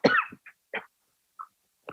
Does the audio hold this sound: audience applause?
no